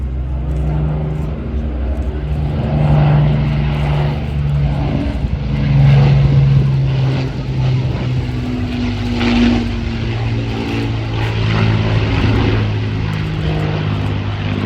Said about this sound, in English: Stearman, powered by Pratt & Whitney radial or 85 engines.